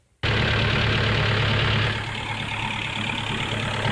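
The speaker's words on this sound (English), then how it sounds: "the engine is now running" A Mercedes Sprinter common rail diesel engine starts abruptly and settles into a loud, steady idle, a constant broadband rumble with a low drone that eases slightly after a couple of seconds.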